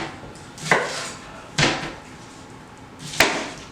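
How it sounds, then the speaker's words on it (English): An onion being cut up on a board beside a barbecue grill, three sharp, fairly loud knife chops spaced about a second and a half apart, each with a short ringing tail. "we're going to go ahead and cut up our onion"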